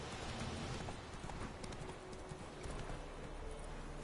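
Horse hooves clop in a quick, steady galloping rhythm in The Witcher 3, faint and mixed with soft ambient game noise.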